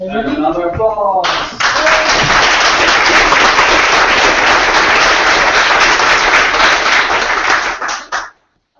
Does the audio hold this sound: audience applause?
yes